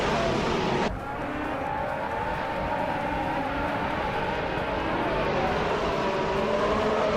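Race cars roar off the starting line in a racing video game, a loud sustained engine drone with tire noise as the pack accelerates together.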